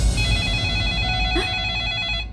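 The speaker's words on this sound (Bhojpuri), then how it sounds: "कितना फोन आवेला इनकर" A telephone rings with a bright, steady electronic trill that holds for a couple of seconds, close and clear above a low background hum, with no one speaking.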